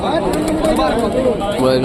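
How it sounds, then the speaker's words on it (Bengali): Rajshahi Giribaz pigeon cooing at a market, low soft coos running through the short clip amid a busy background murmur of voices. "রাজশাহী গিরিবাজ কবুতর"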